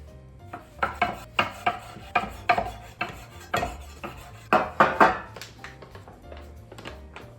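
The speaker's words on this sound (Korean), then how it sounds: "이렇게 길게 만들어서 한 입 크기 정도로 썰어 주시면 돼요." Potato gnocchi dough cut into bite-size pieces on a board, a knife striking the board in a quick series of close, crisp taps, brief pauses between runs, no voices.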